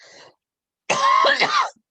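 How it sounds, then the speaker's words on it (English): A harsh, raspy cough burst of about a second, close and loud, following a brief faint sound and silence. "And I need to cough one sec."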